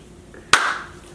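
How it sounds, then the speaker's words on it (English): One crisp, loud hand clap sounds alone in a quiet room, with a brief ringing tail and no speech around it. "I didn't practice the clap. I know how to clap."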